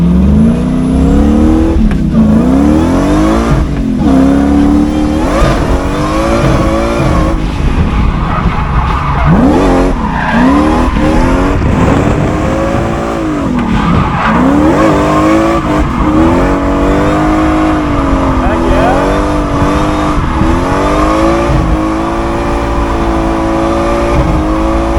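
A supercharged V8 drift truck drifts on a huge road course, engine roaring steadily and loud while tires squeal continuously, pitch rising and falling with each slide.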